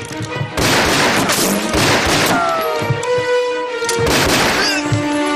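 Gunfire rings out in a Chinese wartime spy TV drama: loud bursts of shots and booming impacts come in two clusters, with ringing tones trailing between them.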